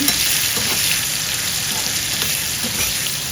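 Red chilli powder, turmeric and homemade masala fry in hot oil in a pan for a Maharashtrian kevla amti, giving a steady close sizzle with light stirring scrapes throughout and no talk over it.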